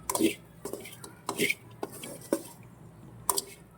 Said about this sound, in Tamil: மிளகாத்தூள் போட்டு கிளறி விட்டுணும்